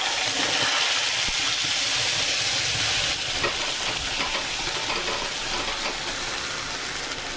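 Spice paste with whole garam masala and a bay leaf fries in oil with a loud, dense, continuous sizzle and hiss. It eases slightly partway through as the paste is stirred.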